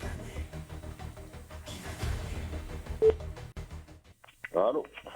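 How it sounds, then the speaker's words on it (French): DTMF tones of a telephone being dialed during a live SMS game prize draw broadcast on Polynésie La 1ère radio, set against studio talk and background music, ending with a brief tonal ring or beep burst. "Attention, première sonnerie du deuxième numéro."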